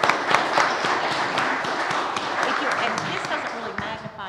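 A room of council workshop attendees applauds steadily and fairly loudly, dense overlapping claps holding for a few seconds with some talking mixed in.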